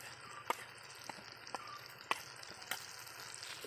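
Chicken masala with chili powder being stirred in a frying pan for chicken roast, a low steady sizzle with a few sharp spoon clicks against the pan, faint and continuous with no talking.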